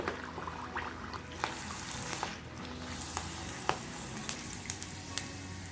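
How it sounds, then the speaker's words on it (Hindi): Sabudana papad fries in hot oil, a steady bed of crackling sizzle punctuated by sharp pops and clicks as the pieces are pressed down, close and moderately loud with no talking. "जैसे ही हम साबूदाने को तेल में डालेंगे हमें तुरंत झरिया की सहायता से दबाना है साबूदाने को"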